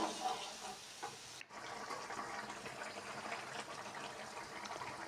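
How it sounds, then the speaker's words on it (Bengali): Water simmering down in a spicy boal fish curry gravy, a steady close bubbling and hissing wash that continues throughout, broken by one brief dip. "এখন ভালোভাবে জলটাকে ফুটিয়ে একদম কিছু কিছু ঘন ঘন করে নেব"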